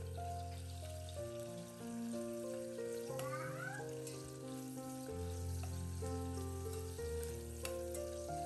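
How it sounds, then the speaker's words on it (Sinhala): Food fries in a generous amount of extra oil in a pan with a soft, continuous sizzle beneath a steady low hum and a few faint clinks. "මම තෙල් ටිකක් වැඩිපුර දාගෙන කීරමින් ටික බැද ගන්නවා මුලින්ම."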